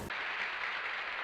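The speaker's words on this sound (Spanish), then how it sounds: "maravilloso, ¿no? Aplausos." A short burst of applause from a crowd, steady and fairly close, starting sharply and holding evenly for about a second with no voices.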